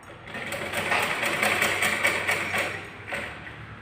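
A sewing machine stitches a simple 30-inch blouse, joining two cross panels, with a steady close whir and a faint rhythmic needle patter running continuously, easing briefly near the end.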